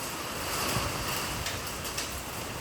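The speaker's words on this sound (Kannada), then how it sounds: "ಈ ಥರ ಮಳೆ ಬರ್ತೈತೆ" Heavy rain falls as a steady, fairly quiet hiss with scattered soft patters, and no voices are heard.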